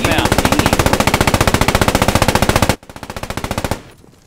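A tank's machine gun fires in a World War II shooter game, a long, fast, evenly spaced burst close and loud, then a shorter, slightly quieter burst that stops abruptly.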